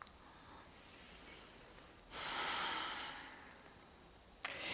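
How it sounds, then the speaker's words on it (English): Quiet breathing during a Kundalini yoga class: a soft, airy inhale or exhale swells for about a second midway through a faint background hiss, with a short sharp sniff at the end. "Now shift to focusing on your breath for a few inhales and exhales."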